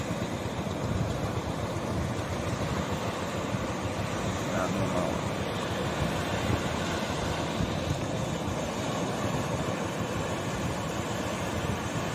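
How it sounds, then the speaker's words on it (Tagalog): Continuous rushing surf fills the scene, a dense, even wash of ocean waves heard from nearby without pauses or voices. "Medyo malaki ang alon."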